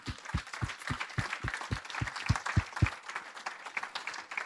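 Church congregation clapping in rhythm, a quick regular beat of about ten claps over three seconds, then a softer looser patter of applause that continues to the end, fairly faint and alone without talk.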